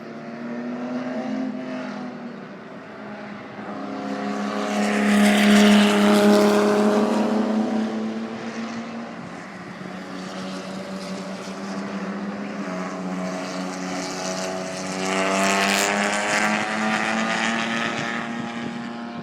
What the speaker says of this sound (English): that's the only clip of the car on track that survived.